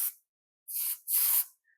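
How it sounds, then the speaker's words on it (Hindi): Hair shine spray hisses from a can in short bursts while finishing a high ponytail hairstyle: a brief puff, a pause, then two longer sprays close to the mic. "सो यहाँ पे अगेन हमें साइन स्प्रे का यूज करना है"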